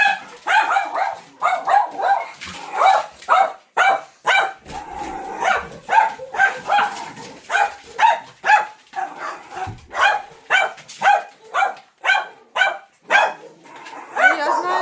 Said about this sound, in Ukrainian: Собаки гавкають на весь двір.